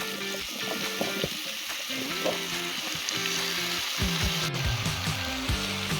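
Potatoes tipped into meat frying in a cauldron over an outdoor fire, setting off a loud, steady sizzle with clattering and stirring on top and no voices.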